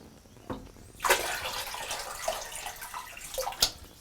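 Water poured from a container into the top of a toilet tank in a rustic compound bathroom, a steady splashing gush that starts abruptly and runs continuously, near and fairly loud, with no talking.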